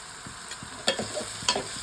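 Ginger garlic paste frying with tomatoes in a pan, with a steady sizzle and a few stirring scrapes from a spoon, close and moderately loud, with no talking.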